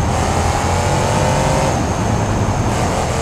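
Retro Gravedigger monster truck in BeamNG Drive racing down a straight road at high speed, its engine droning steadily and loudly with a constant roar and no talk.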